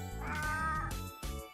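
A single drawn-out cat meow from the Tokyo School Life video game, loud and close, with game background music underneath and no one talking.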